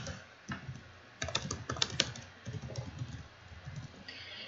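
Close, quick typing on a computer keyboard while entering text in Notion, with uneven bursts of key clicks and brief pauses, and no voices.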